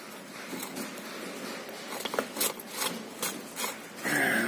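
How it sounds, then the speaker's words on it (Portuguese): Filter removed from an MWM diesel engine, close rubbing and scraping of metal parts with a few knocks, steady and fairly loud, no speech. "Fazendo a retirada aí do filtro."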